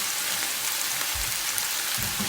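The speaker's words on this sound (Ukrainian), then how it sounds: "І смажу так її до готовності" Sliced onion with a little salt and sugar fries in oil in a pan until caramelised, giving a steady, even sizzle heard close and alone.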